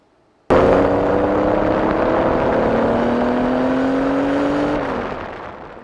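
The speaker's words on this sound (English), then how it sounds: "The two were driving a street-legal 2-seat race car." A street-legal two-seat race car driving past, its engine droning loudly and steadily after a sudden onset, the pitch easing slightly downward before the sound fades out.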